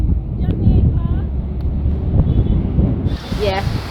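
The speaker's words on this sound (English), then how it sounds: "And today's a windy day." Strong wind buffeting a microphone outdoors in downtown Kingston, Jamaica on a windy day, a steady low roar throughout, with voices talking briefly over it.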